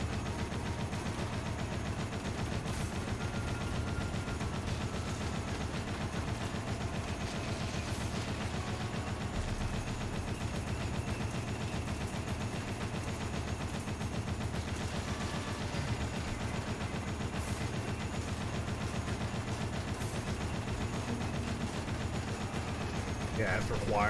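Sustained turret machine-gun fire in the Dead Rising video game, a dense continuous rattle of rapid shots holding steady throughout, with a faint voice underneath.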